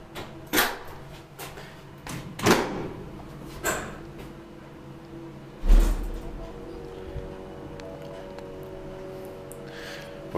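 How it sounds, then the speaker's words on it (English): An old Kone roped hydraulic freight elevator door in Raisio, opening and closing as several heavy clunks and sliding bangs spaced a few seconds apart, with a low hum in between. "I'll open the door for you."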